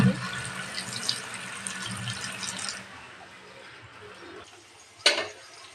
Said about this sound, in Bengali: এখন আমি এটাকে ধুয়ে নেব